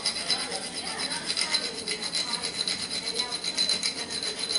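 Whole fresh nutmeg rasped on a grater in a kitchen, a steady scraping hiss of short repeated strokes, close and fairly quiet.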